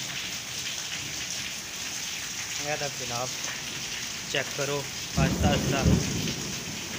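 Heavy rain pours steadily with deep thunder rumbling and lightning, while someone speaks briefly over the storm, in Chattroh, Dadyal, Azad Kashmir.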